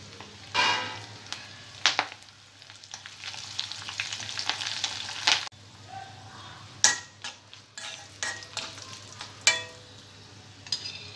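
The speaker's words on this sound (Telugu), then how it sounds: "తాలింపు కొద్దిగా ఫ్రై అయిన తర్వాత కరివేపాకు వేసుకోవాలి" Tempering seeds, garlic, dried red chillies and curry leaves frying in hot oil, with sharp spitting crackles and bursts over a constant sizzle, plus occasional stirring clinks from the pan.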